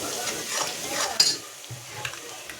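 Turmeric being stirred into frying vegetables for a spinach, eggplant and potato dish: a brief close sizzle with scraping stirs and a small clink of a utensil against the pan.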